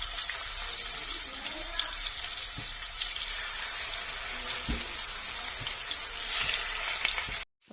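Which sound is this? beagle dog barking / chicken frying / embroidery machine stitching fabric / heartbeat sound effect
chicken frying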